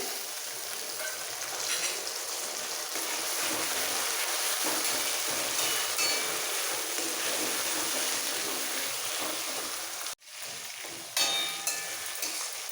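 Onion paste frying in a pan for a Bengali mutton curry with potatoes: a steady, loud sizzle runs throughout with faint stirring, broken by a brief pause near the end before the frying resumes.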